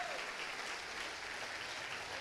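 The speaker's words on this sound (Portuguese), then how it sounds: "Vamos aplaudir ao Senhor." A church congregation, standing, applauds in worship: steady, dense clapping from many hands fills the room at a fairly soft, distant level, with no speech over it.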